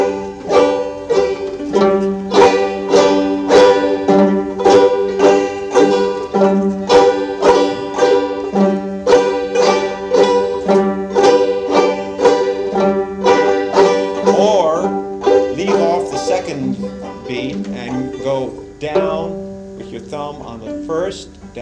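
Alternating thumb-and-finger picking on a stringed instrument, the thumb on the downbeat and the finger brushing up and down on the following beats, played as a steady, even rhythm of bright plucked notes and chords close up with no talking.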